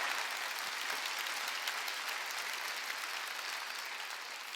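A church congregation at a Sunday worship service applauds in a dense, steady roar of clapping that holds at a constant loud level for several seconds, with no talking heard over it.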